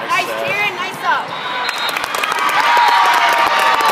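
At a volleyball game, a crowd cheers and claps, and the noise builds into a steady, loud roar of voices, with coaching shouts heard over it early on.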